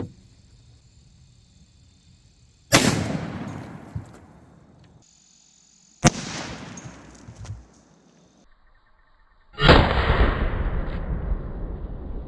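Three loud, sharp .450 Bushmaster rifle shots crack out alone, each followed by a long echoing decay, fired at a pumpkin about 7 yards away.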